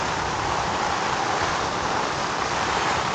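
Heavy rain pours steadily over a campsite, a dense, unbroken hiss that stays loud and constant throughout with no voices.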